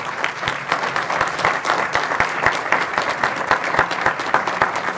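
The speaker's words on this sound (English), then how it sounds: "Let's give Cortney another round of applause" A conference audience bursts into sustained applause for a guest speaker at a food systems collaboration event, many hands clapping densely and steadily throughout, with no voices standing out.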